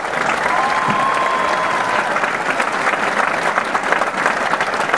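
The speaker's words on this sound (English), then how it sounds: "give him a round of applause" A high school commencement audience in South Berwick, Maine, for the class of 2010 gives a round of applause, dense and steady throughout, with no break.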